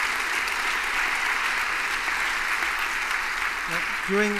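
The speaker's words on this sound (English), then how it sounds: "No, that's the applause, please." Audience applause at a talk in Berlin, a dense sustained wash of clapping from a large crowd filling the hall, with a voice beginning to speak near the end.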